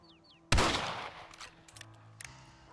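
Rifle fire in Red Dead Redemption, one loud close shot with a long rolling tail followed by several fainter cracks, over quiet ambience.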